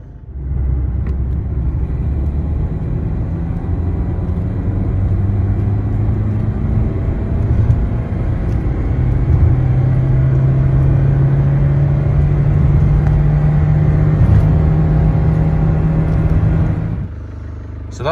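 A diesel car engine drones loudly from inside the cabin, its low hum rising in pitch as it accelerates, with road rumble underneath throughout.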